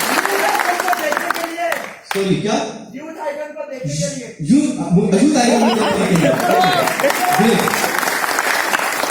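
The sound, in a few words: audience applause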